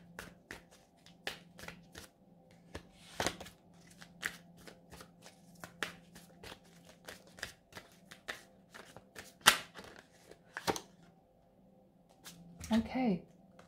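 Tarot cards shuffled by hand in a long, uneven run of soft riffling slaps and flicks, with a louder burst near the end and a voice briefly talking.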